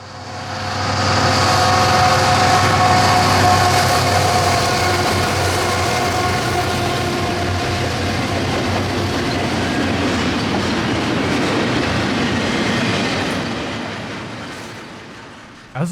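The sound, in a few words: new Wabtec GE ET44 locomotives leading train 100 eastbound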